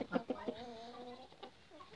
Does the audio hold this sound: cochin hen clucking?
yes